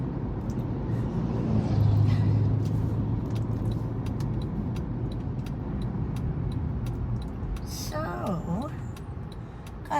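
Inside a moving car, a steady low road rumble and engine hum runs under a person talking, with a faint swell of passing traffic partway through.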